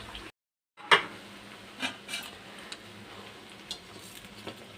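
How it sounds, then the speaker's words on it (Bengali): Khaja pastries fry in oil over a medium flame with a gentle, even sizzle, broken by a brief silence near the start and a few soft scrapes and taps. "এগুলো ভেজে নিচ্ছি"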